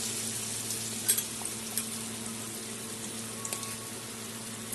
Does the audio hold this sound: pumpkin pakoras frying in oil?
yes